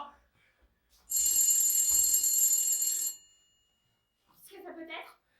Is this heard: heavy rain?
no